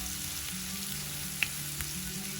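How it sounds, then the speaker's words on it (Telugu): Sliced onions sizzle steadily in a pan with salt and turmeric, a soft continuous frying hiss with a faint clink of a spoon partway through and no voices. "ఉల్లిపాయని 1 నిమిషం వేగనివ్వండి"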